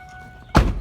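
A car door shuts with a single solid thunk as someone climbs out of the vehicle, close and sudden after a quiet lead-in.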